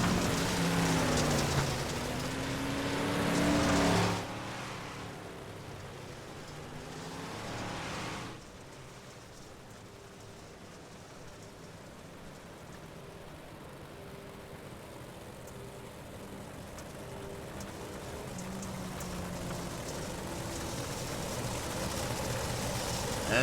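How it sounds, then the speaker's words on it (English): Dirt-track race cars at Lernerville rolling out behind a pace car, a loud engine drone at first, then a lower, steady rumble of engines beneath broad hiss, swelling slightly toward the end. "Pace car leads them all out on track."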